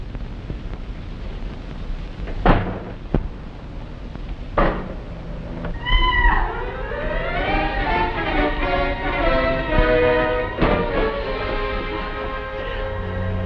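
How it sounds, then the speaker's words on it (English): A cat yowls loudly in a long, wavering cry at night, following a couple of sharp knocks over a rushing windy background. "It was only a cat."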